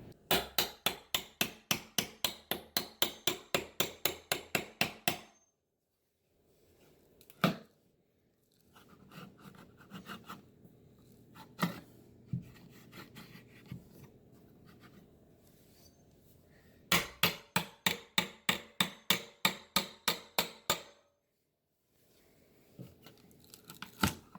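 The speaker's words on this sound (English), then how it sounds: "get them out with a pry bar and a hammer, one at a time" Rapid runs of sharp hammer blows ring out in two bursts, with scraping, prying and clattering of loosened fasteners in between as a pry bar works them out one at a time.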